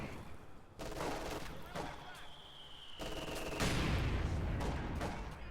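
Stormseeker rocket artillery firing in Company of Heroes 2, a rolling series of blasts and whooshing launches building to a heavier, louder barrage, with a voice talking over the battle.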